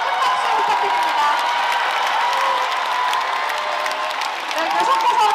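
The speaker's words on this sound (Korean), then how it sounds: "랩커스와 아라리에게 다시 한번 큰 박수 부탁드립니다." A crowd at the 2023 Wonju Dancing Carnival applauds and cheers loudly for the award-winning dance teams. The dense, sustained roar of clapping and whoops holds steady for the whole stretch.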